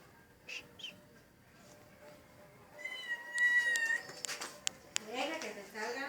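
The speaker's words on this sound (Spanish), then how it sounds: "Un gato." A cat meows several times, short and fairly close, amid quiet room sound, with people talking softly around it.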